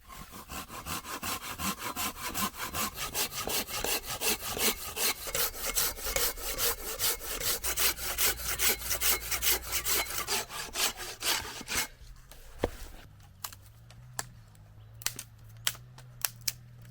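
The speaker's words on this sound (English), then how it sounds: "I've been sawing up loads of wood" Rhythmic back-and-forth strokes of a hand saw cutting wood, fast and steady for about twelve seconds, then stopping, followed by a few sharp knocks.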